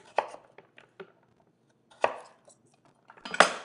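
A knife chops butternut squash into cubes, with a few sharp, close chops striking the board in an uneven rhythm and quiet pauses between them.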